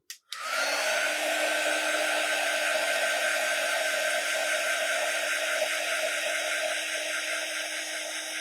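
A hair dryer blows steadily and loudly at close range, drying a candy corn craft door hanger after a brief click to start, a continuous whooshing hum that holds for several seconds.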